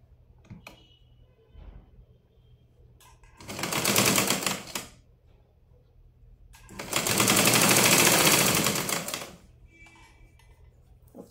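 A sewing machine stitches the shoulder seams of a blouse in two bursts, a short run and then a longer one, each a loud rapid whirring chatter with quiet pauses between.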